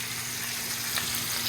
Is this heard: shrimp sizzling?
yes